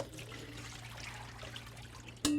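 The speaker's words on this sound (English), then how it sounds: "So we're going to drain all this water." Water draining off brined giardiniera vegetables, a steady close trickle and splash with a sharp clunk near the end.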